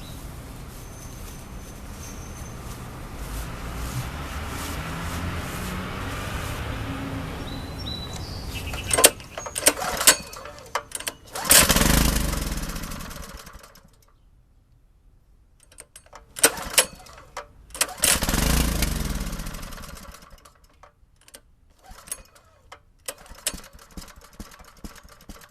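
Repeated attempts to start a Harbor Freight Honda-clone small engine that will not run: a steady mechanical drone, then sharp clattering pull-start bursts and sputters separated by near-silent gaps, close and loud.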